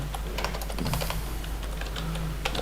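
Keyboard typing as text is entered into a Microsoft Excel spreadsheet cell, a steady run of quick close key clicks with a few heavier strokes, alone with no talking.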